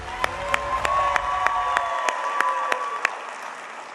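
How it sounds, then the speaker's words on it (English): Audience applause at a Teacher of the Year celebration, a steady wash of clapping with a few sharp, evenly spaced louder claps standing out, fairly close, with no talk over it. "Let's give one more round of applause for Ashley Miller"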